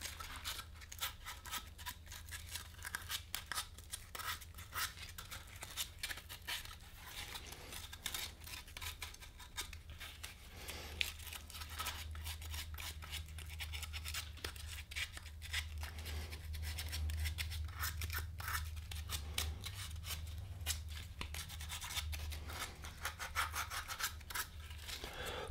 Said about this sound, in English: I might show up again with my sandpaper and clean up this